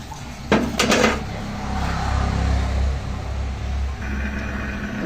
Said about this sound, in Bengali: দুধগুলো সুন্দর করে নাড়াচাড়া করব।